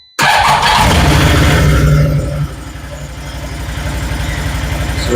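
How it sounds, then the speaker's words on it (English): A Can-Am Defender side-by-side whose stator was replaced cranks and fires with an abrupt loud catch, revs briefly, then drops to a steady, rhythmic idle close by, with no talk. "So let's start it up and see what we get."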